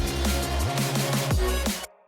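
Short electronic music drop with a heavy, straight bass line and punchy repeated hits, played flat with no pitch bend, loud and steady until it cuts off abruptly near the end.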